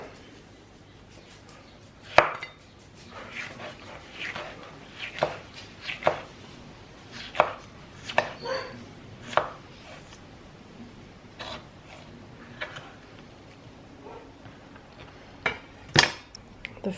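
A knife chops through jalapeno peppers on a cutting board in a home kitchen, with sharp irregular knocks, some close together and some spaced apart, loud and near, and no talking.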